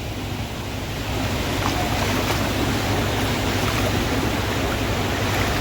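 A mountain stream rushes along the Girnar pilgrimage route, producing a dense, steady wash of flowing water that stays loud and unbroken throughout.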